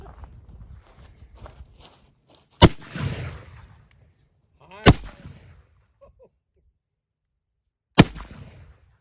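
Three loud single revolver shots from a Civil War-era handgun, widely spaced and each followed by a short ringing decay, with quiet shuffling and handling noise in between.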